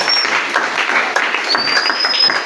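A church congregation applauds continuously during a French-language sermon, a dense, steady wash of clapping with a few faint whistles on top.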